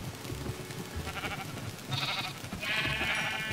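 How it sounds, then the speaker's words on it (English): Sheep bleat in Minecraft Java Edition 1.19 from a wool farm pen crowded with two dozen white sheep, several short bleats overlapping over a low background hum. "there is 24 sheep crammed in that area, all white sheep"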